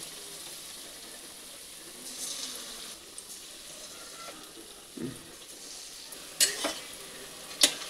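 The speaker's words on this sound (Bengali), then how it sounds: "ব্যাটারটার মধ্যে ডুবিয়ে কোট করা জিনিস মানে কর্নগুলোকে আমি সব ডুবিয়ে এক একটা করে তেলে দিচ্ছি" Battered baby corn pieces dropped one at a time into a little hot oil give a steady low sizzle, with a few sharper crackles and clinks rising near the end; no voices.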